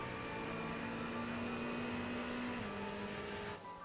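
GT3 race car engine in iRacing at Daytona, a loud steady in-car drone holding one pitch, then dropping a step as the car shifts or lifts, and fading near the end.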